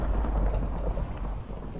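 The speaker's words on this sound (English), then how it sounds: "Oh, now it's a thunderstorm as well." A Minecraft thunderstorm at sea rolls with a low rumble of thunder over a steady wash of rain, loud and continuous for a brief moment.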